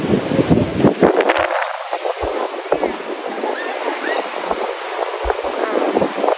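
Strong ocean waves slosh and rush around a boat during a ride, mixed with buffeting wind noise on the microphone and excited voices talking and exclaiming over the water.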